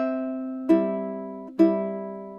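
Bright ukulele chords ringing out, two strums following a sustained chord in an even, lilting triple-time pulse, played solo and close.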